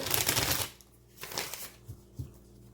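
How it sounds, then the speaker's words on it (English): Cards from a tarot deck riffle in a crisp burst, then a couple of quieter shuffles and soft taps as the deck is squared up. "this deck is so much easier to shuffle"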